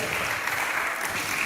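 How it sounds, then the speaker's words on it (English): Audience clapping for a panel speaker walking up at an event, a brief steady patter of applause with faint voices underneath. "Please, a round of applause as he comes up."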